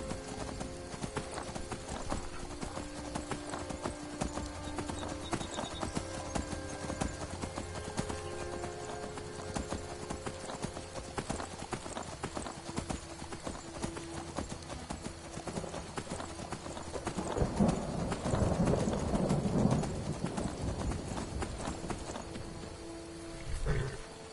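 Steady clip-clop of horse hooves at a walking pace in the video game The Elder Scrolls V: Skyrim, continuing throughout with a low game ambience and a brief louder stretch near the end.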